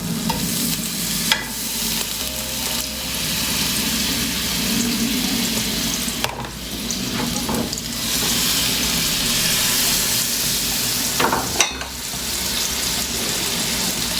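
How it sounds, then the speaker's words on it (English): Butter sizzles in a hot pan while making a potato, tomato and cheese sandwich: a steady, close frying hiss, with a few clinks and shuffles of the pan partway through. "So now while the pan is hot, I'm going to put some butter."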